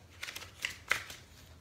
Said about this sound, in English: And then you do your false shuffle,